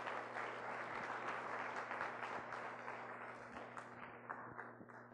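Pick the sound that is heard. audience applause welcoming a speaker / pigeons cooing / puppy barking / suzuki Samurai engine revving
audience applause welcoming a speaker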